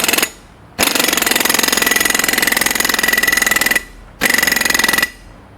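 An auger tie-down anchor is power-driven into the ground, giving a loud, continuous rapid hammering drone for about three seconds, a brief pause, then a shorter second burst before stopping.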